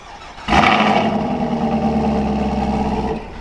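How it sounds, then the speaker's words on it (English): A 2024 Chevrolet Camaro 2SS naturally aspirated V8 fires up by remote start and settles into a loud, deep, steady idle rumble through its quad-tip dual exhaust, heard close with no talking. "nothing beats the sound of that naturally aspirated V8"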